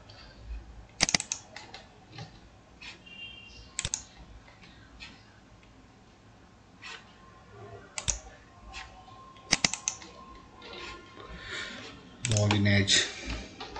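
Fingers type an SSH root login password on a computer keyboard, giving scattered, close clicks and short bursts of keystrokes with pauses between them and no speech.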